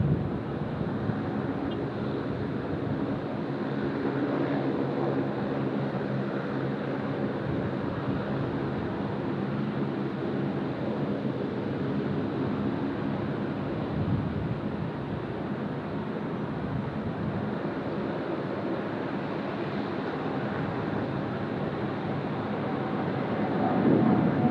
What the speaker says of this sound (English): Here we go, nice long takeoff roll here from Qantas to Dallas.